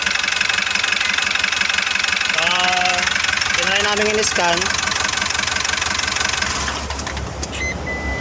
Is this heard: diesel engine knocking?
yes